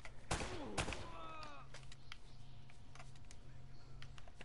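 Gunfire in the video game Uncharted: two sharp, loud shots near the start with ringing tails, then scattered fainter distant shots over a steady low game soundscape.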